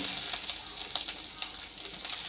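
Ginger hits hot oil in a pan while cooking mango rice, giving a steady close sizzle with light crackling pops and no talk.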